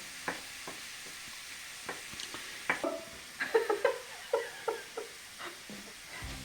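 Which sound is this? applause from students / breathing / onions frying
onions frying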